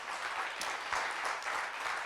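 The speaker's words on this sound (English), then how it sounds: "Give him a round of applause." A brief, fairly quiet round of applause for a board member at a Tahoe mastermind gathering, a soft, even wash of many hands clapping with no voices over it.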